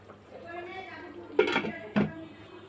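A lid being set on a cooking pot of papaya, giving two clattering metal knocks close together, while someone talks quietly underneath.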